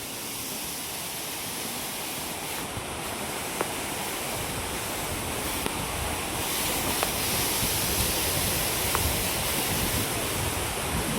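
Waterfall along the Kedarnath trail in rain, a continuous broad rush of falling water with a few faint sharp ticks, growing slightly louder toward the end, with no speech.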